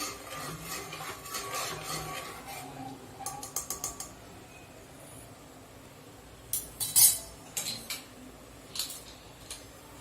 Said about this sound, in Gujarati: હવે એને એકવાર મિક્સ કરી લઈશું